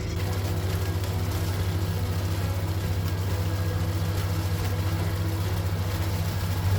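A loud cold farm engine being revved hard to keep it running, close by with a steady low drone and little change in pitch.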